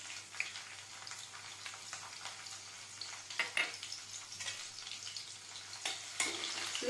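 Garlic fries in hot oil with cumin seeds in a pan, giving a soft, continuous crackling sizzle with scattered pops and stirring scrapes, heard close and with no voices.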